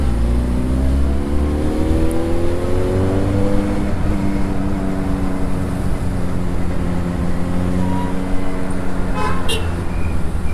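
A 2022 Benelli TNT 600i motorcycle engine revs while riding, with a loud continuous drone whose rising tones climb under steady road and wind noise, and a brief horn-like toot near the end.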